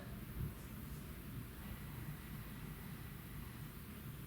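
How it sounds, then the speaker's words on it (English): A small propeller plane passes overhead as a steady, low rumbling drone, faint and distant, with wind noise blending into it throughout. "a smaller plane."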